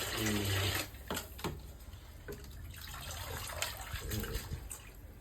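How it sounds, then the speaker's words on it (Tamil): Water splashes and gurgles as it is poured, a loud gush at first, then uneven trickling and sloshing that fades off. "இதில் தண்ணி ஊற்றிடுவோம்"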